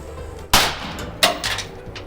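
A homemade gunpowder cannon firing a bolt: two sharp, loud bangs about a second apart, each with a short ringing decay, close up with no talking.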